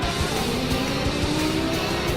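Race cars in a racing video game drone steadily as they drive, their engine whine holding a continuous, fairly loud pitch with no voices on top.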